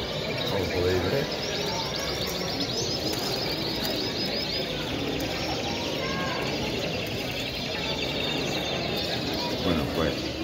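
Canaries sing at a canary breeding contest in Dos Hermanas, their chirps and warbles steady across a noisy hall under people talking.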